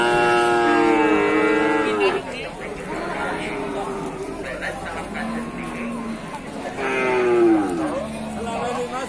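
Two Babon breeding cows low loudly nearby, with long drawn-out moos at the start and again near the end, while people talk around them.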